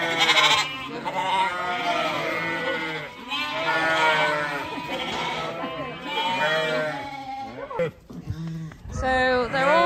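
Sheep and lambs bleat continuously in a shed, many overlapping calls near and loud, with a brief dip before the chorus resumes; people talk underneath.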